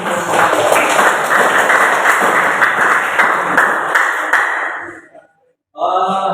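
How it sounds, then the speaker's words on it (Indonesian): A class of vocational high school students claps together in a dense, steady burst for about five seconds; it stops abruptly, leaving a brief silence before another short sound starts. "Ya, tepuk tangan."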